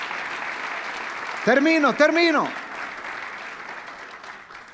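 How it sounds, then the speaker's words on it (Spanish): A church congregation claps in praise during a revival service, a steady wash of applause running underneath while a voice speaks and calls out briefly in the middle. "Démosle palmas al Señor."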